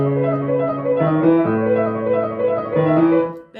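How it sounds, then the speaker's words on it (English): Piano playing the left-hand accompaniment, steady sustained bass notes shifting through a few chord changes, clear and close with no voices. "you have that left-hand part from part 1 of the tutorial that sounds like this"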